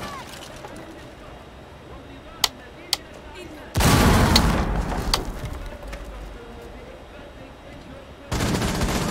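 Rainbow Six Siege gunfire with an FMG during a pro league esports match: a couple of sharp single shots, then a loud sustained burst of automatic fire, a lull and another burst.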